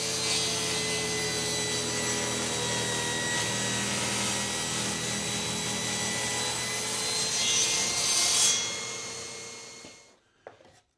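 A table saw cuts an angle in wood stock guided by a temporarily fastened plywood strip, a loud sustained whirring cut that ends as the blade spins down to silence.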